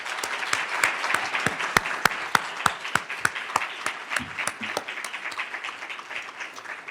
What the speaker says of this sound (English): please, everyone, join me in a round of applause for our 3MT participants.